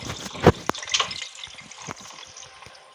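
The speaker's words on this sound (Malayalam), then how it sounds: "ഇവിടുന്ന് ഈ പൈപ്പിൽ നിന്ന് വെള്ളം അങ്ങ് കളയുക." Water drains from a pipe in the video game Psycho Escape: a couple of sharp splashy drops, then a thin, fading trickle with scattered drips.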